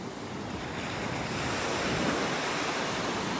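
Ocean surf and wind on a beach in North Naples, Florida, a steady broadband wash of breaking waves with gusty wind buffeting the microphone, growing slightly louder midway, with no voices.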